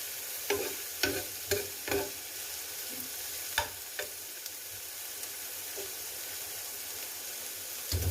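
Ground beef for a samosa filling fries in a pan with a soft, steady sizzle, while a utensil stirs it in several scraping, knocking strokes, nearby and fairly quiet.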